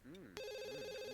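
Telephone ringing in The Sims 2, a bright electronic ring tone that cuts in abruptly partway through and holds steady over a soft melodic game background.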